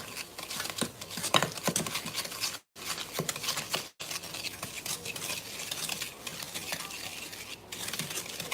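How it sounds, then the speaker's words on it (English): Butter and sugar being creamed in a mixing bowl, a steady scraping and stirring texture that runs throughout with a couple of brief pauses, close and moderately loud, with no talking. "So you wanna cream that sugar and butter together."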